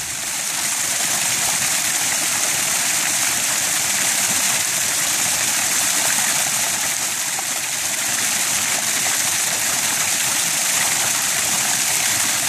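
Archimedes water turbine spinning in a heavy flow of water, a constant loud rushing, gushing roar with no breaks or talking.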